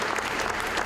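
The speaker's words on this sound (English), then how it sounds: "Can we give a round of applause to those who have volunteered?" A crowd of people at a community emergency response exercise clapping for volunteers, a dense, even wash of applause throughout the short moment.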